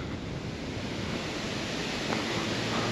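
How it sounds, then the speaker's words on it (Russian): Steady, strong wind roars continuously on a seaside beach at Lazarevskoye, Sochi, a broad rushing noise with no pauses and no voices. "А ветер усиливается."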